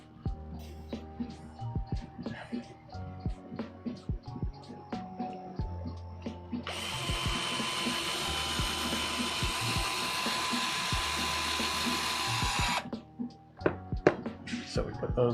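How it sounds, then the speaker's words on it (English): A power drill drives reinforcement screws into a MOG RC truck kit, giving one steady whirring run of about six seconds between scattered clicks and handling noises. "So we're putting some reinforcement screws in right now."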